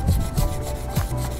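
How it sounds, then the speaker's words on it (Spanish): A drill bit wrapped in sandpaper is rubbed by hand inside the screw holes of an electric guitar neck, making a few short, close rasping strokes in an uneven rhythm. "Una broca sencilla, simplemente que se asemeje a la medida del barreno, y luego pues la envuelves con la lija"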